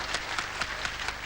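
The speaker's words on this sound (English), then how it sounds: "a big round of applause, please," An audience at a 1987 party show applauds briefly, a steady wash of many hands clapping with a few stronger swells.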